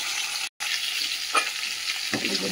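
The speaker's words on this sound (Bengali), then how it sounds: "মাছের মাথাটা ভালো করে ভেজে নিয়েছি" A fish head fries in hot oil, a loud, close, continuous sizzle with a brief dropout and a couple of sharper crackles and spatters.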